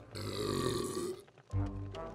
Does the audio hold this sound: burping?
yes